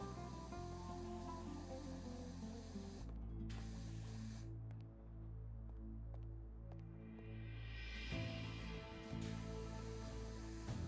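In Powerwash Simulator, a pressure washer sprays soap in a steady, continuous hiss over game music, with a brief drop in the spray partway through before it resumes.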